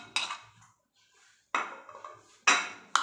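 Eggs seasoned with salt, red chilli powder, turmeric and black pepper are beaten in a bowl in three or four separate bursts of quick, close clattering, with short silent gaps between them.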